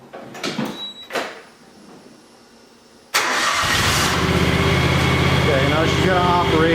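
A John Deere X738 lawn tractor fitted with a snow blower cranks briefly and catches, then settles into a loud, steady engine run close by, after a few short knocks and faint voices beforehand.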